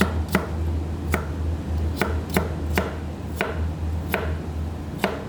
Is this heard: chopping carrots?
yes